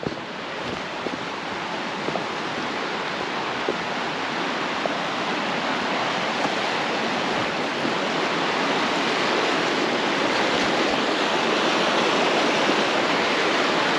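Steady, full broadband rush of a river flowing in a snowy winter forest at Calaveras Big Trees, continuous and even throughout with no voices.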